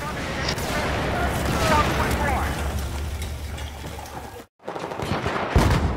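Rapid gunfire from an AKU-12 carbine in the video game Battlefield 4 crackles in sustained bursts with a short pause, mixed under a speaking voice throughout.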